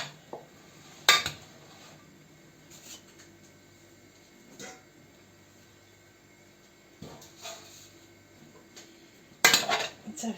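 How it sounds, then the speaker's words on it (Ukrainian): Green tomato salad with sugar being stirred in a bowl, scraping and clinking at intervals with a few sharper knocks, fairly quiet with no talking. "І це все перемішуємо"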